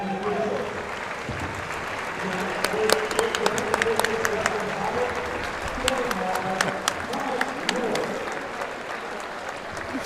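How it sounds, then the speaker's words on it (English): Standing crowd applause in a gym for the officials at a Platteview vs. Beatrice high school basketball conference tournament game, a dense, steady roar of many hands clapping that lasts throughout, with a few sharper claps standing out. "give a round of applause to these outstanding officials"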